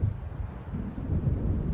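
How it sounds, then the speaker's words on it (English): Low rumbling thunder rolls in as a storm approaches in the game Alan Wake Remastered, a faint, continuous deep grumble with wind-like wash and no speech. "It seems there's a storm coming."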